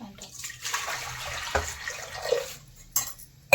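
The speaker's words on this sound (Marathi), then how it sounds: "आता मी याच्यात पाणी टाकून दिले" Water splashes and pours into a hot metal pan for a few seconds, followed by a couple of sharp clinks of cookware.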